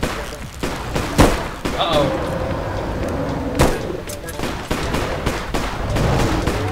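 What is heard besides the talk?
gunfire in the video game Bigfoot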